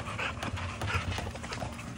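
American Bully dogs pant close by in steady, breathy rhythm against a noisy background, with no clear speech.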